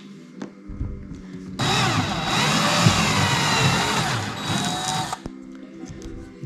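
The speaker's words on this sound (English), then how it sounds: "Drill it out. And then I've been putting a fatty step drill in there." A thick step drill bores through sheet metal on a wedge camper build, a steady high-pitched grinding whine lasting about three and a half seconds, loud and close, with quieter workshop clatter before and after.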